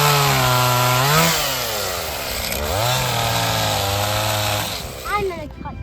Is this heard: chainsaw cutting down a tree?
yes